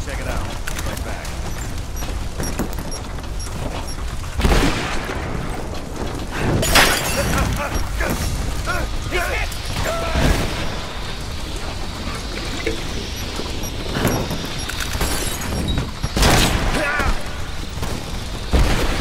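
Gunfire and shattering impacts in the video game Rise of the Tomb Raider, loud repeated bursts and crashes over a constant busy game soundscape, with voices speaking at times.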